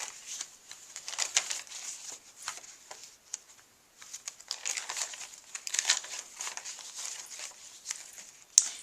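Thick scrap paper crumpled by hand for journal making, giving a close, continuous crinkling and crackling in uneven bursts with a short pause midway and no speech.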